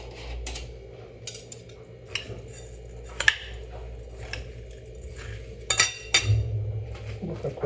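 A spoon clinks and scrapes against a container while homemade bagoong is stirred, with irregular metallic taps and knocks close by and no talking.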